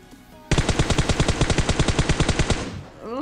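An automatic weapon fires in PUBG Mobile on the desert map, a loud, close, evenly spaced burst of about twenty rapid shots lasting two seconds before it stops, followed by a faint voice.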